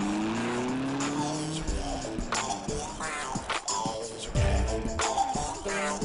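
Getaway car speeding off hard with engine roaring and tires squealing and skidding, loud and close with rising revs, while a voice talks over it.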